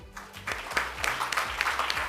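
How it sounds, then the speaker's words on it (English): Audience applause at a women's awards ceremony in Southeast Asia, a steady wash of clapping heard from a distance in a large hall, moderately faint, with a low hum underneath. "Please give a round of applause for Omboy Hayang"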